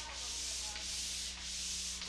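Close, steady hand sanding of drywall, an even abrasive hiss with faint rhythmic strokes roughly every half second, no voices.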